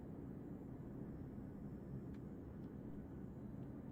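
Aircraft in Arma 3 carrying hooked cargo beneath it as it flies away, a steady dense engine roar and rumble holding constant throughout with no talk.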